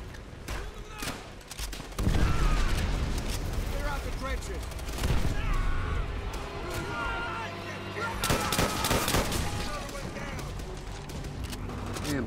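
M1 Garand rifle gunfire during a trench battle in Call of Duty: World at War, heard as loud, dense bursts of shots and booming battle noise, with shouted voices mixed into the chaotic fighting.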